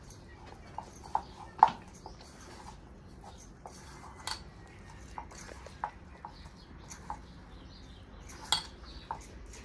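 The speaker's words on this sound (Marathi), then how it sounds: "तर आता दुसरा 1 चमचा मी ह्यात टाकून घेते आणि नंतर मिक्स करून घेते बघा" A spoon clinks and scrapes against a bowl while stirring gram flour into pakora batter, giving sharp intermittent taps and clacks over a quiet room background.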